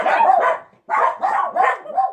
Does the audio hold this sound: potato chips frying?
no